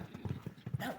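A few hollow horse hoof clops on hard ground, close by and fairly quiet, in an uneven rhythm, in the village of Kosmach.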